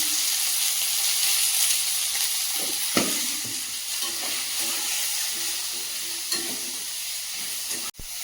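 Prawns fry in a small wok with onions, salt and turmeric, a steady close sizzle running throughout with a few sharp clinks and scrapes of stirring.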